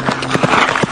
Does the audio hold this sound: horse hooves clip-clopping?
yes